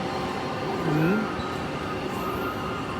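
Steady rumble and rush of a Bangalore metro train in motion, with a brief squeal of wheels and faint background murmur.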